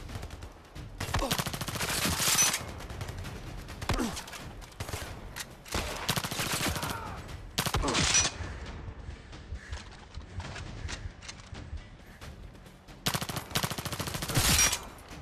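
Gunfire in the game Zero Caliber: Reloaded, coming in several loud bursts of rapid shots separated by quieter gaps, with faint background game ambience between volleys.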